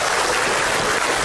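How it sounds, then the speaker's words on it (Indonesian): An audience applauds on an Indonesian comedy TV show, a dense, steady burst of clapping filling the short moment with no voices over it. "tepuk tangan untuk mereka."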